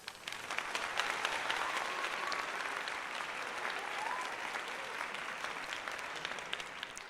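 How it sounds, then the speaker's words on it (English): Crowd at a Phillies versus Rockies baseball game claps and cheers in a steady, distant wash of applause, heard faintly through a broadcast with no clear voices on top. "Let's give Taijuan Walker a round of applause, though, today."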